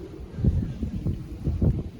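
Strong wind roars close to spinning wind turbines, a steady low rumble with gusty swells and buffeting on the microphone throughout.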